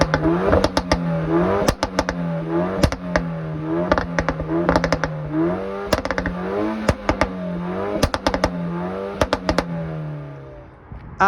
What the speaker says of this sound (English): some footage of the engine just revving, so you can hear the noise that it makes